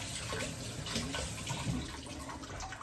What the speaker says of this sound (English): I'm gonna just rinse my hand real quick